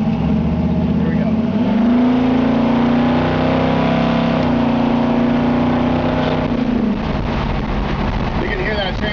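A 1956 Chevy 3100 pickup drives with a steady engine drone that climbs in pitch, drops at a gear change, climbs again and shifts once more, loud and close under a voice.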